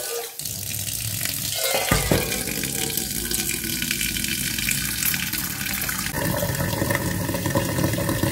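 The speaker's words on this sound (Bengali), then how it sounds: "তো চলো আগে চায়ের জলটা নিই" Tap water gushes into a pot or kettle to fill it for tea, a loud rushing splash that changes pitch partway as the vessel fills, with a brief clunk near the start.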